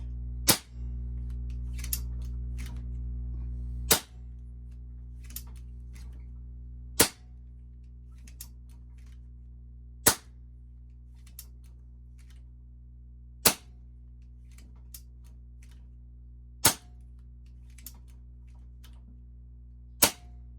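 A .22 caliber AEA Element ultra-lightweight air gun fires about seven sharp, evenly spaced shots, each a crisp crack roughly three seconds apart over a low steady hum.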